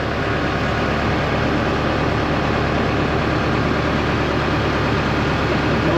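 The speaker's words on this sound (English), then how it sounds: "Still got the tractor running" A tractor engine runs on through the whole stretch as a steady, loud, low droning rumble with an even texture and no breaks, heard alone without speech.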